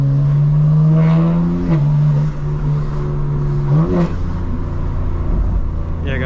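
A 2024 BMW M4 Competition xDrive G82 pulls through its gears, the engine and exhaust rising in a steady drone, dropping at two upshifts, then settling into a lower rumble from inside the car.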